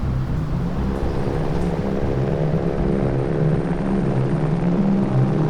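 A helicopter carrying a building structure into the mountains drones steadily with a low, rhythmic rotor thrum and engine hum, continuous and fairly loud throughout with no talking.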